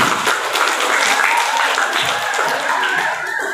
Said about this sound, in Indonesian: Kami minta tepuk tangan untuk wali murid.